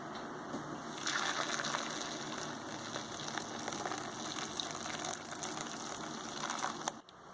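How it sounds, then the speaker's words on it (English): Almond milk made from soaked brown almonds is strained into a container, giving a steady wet pouring and trickling wash that stays fairly even throughout before cutting off abruptly near the end. "Okay, so we're straining it into here."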